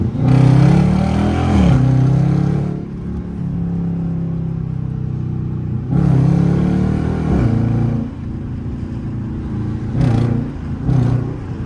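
A Dodge Charger RT with a loud aftermarket exhaust accelerates hard through traffic, its deep engine roar swelling and dropping across repeated pulls, with rumbling idle stretches between and gear changes audible, all close and loud.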